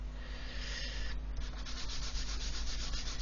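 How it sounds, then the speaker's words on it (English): A small plastic Airfix 1/24 Hellcat cockpit part, stuck down on blue tack, is rubbed across sandpaper in quick, even, close-up strokes, a continuous scratchy rasp with no talking. "then you can sand away to your heart's content."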